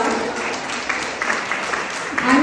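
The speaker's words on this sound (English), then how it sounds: "Let's give one more round of applause." An audience applauding, a steady wash of clapping throughout, fairly loud and close, with a voice briefly audible near the end.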